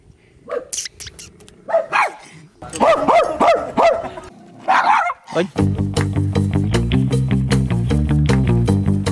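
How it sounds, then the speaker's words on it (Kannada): Several dogs bark sharply in bursts, some yipping, close and loud; later a steady rhythmic musical beat takes over. "ನಾಯಿಗಳವೆಲ್ಲ ಇಲ್ಲಿ"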